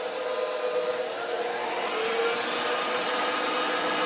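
An electric mixer whips Earl Grey cake batter in a warm bowl, a loud, steady, continuous whirring hum close up with no talk.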